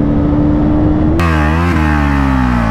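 KTM Duke 250 motorcycles roaring close by in a drag race, a loud engine whose pitch climbs, dips sharply at a gear change and then holds steady.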